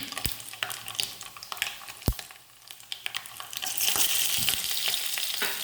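Rapid crackling and popping of mustard seeds in hot coconut oil, with sharp pops scattered throughout and a denser sizzle building toward the end.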